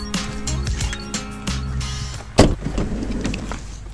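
The rear door of a Force Urbania van converted into a motorhome lounge is opened, with mechanical clicks and a whirring latch or motor, then a sharp clunk partway through and a softer rattle afterward, close up and with no talking.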